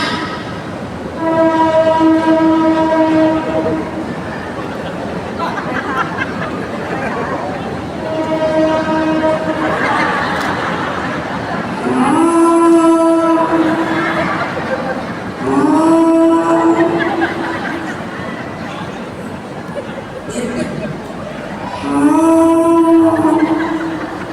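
A Pertamina freight train rumbles past steadily while its horn blasts several times, long sustained tones with shorter repeated honks toward the end, loud and close.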